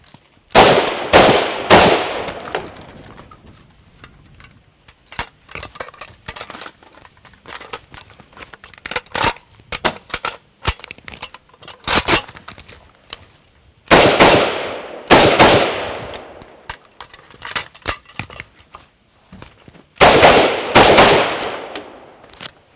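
AK-47 rifle with an underfolding stock fired at targets: loud bursts of rapid shots come in clusters, separated by quieter gaps with handling and reloading clatter and scattered single shots.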